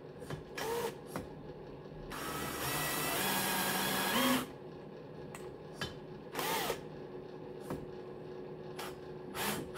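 A new cylinder head from a Cox 1641 engine has its valves lapped by hand, giving gritty rasping and grinding strokes, one long continuous rub in the middle and shorter scrapes around it, close and moderately loud.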